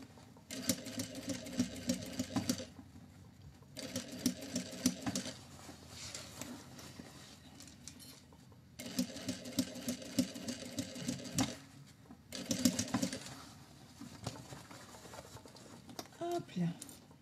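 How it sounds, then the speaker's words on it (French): A sewing machine stitches a seam on fabric in several bursts of fast, even mechanical patter, each lasting a few seconds, with short quiet gaps between them and soft talk nearby. "On fait une couture."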